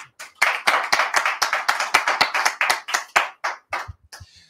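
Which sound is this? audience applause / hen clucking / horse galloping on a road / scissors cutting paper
audience applause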